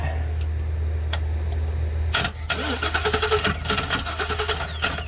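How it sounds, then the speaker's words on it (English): The 7.3 engine of a 2020 Ford Super Duty F250 cranks over when the starter terminals are jumped: after a steady low hum and a couple of clicks comes a sudden loud engagement and a rhythmic, whirring crank that continues to the end. "I'm gonna touch these 2 terminals together, and that should result in the engine turning over."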